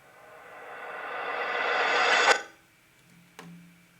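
A reversed cymbal swells steadily louder over about two seconds and cuts off abruptly, followed by a short, quieter hit.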